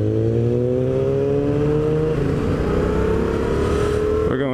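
A motorcycle engine drones steadily while riding, a loud continuous hum that shifts pitch as the revs change, with the rising tone of acceleration near the end.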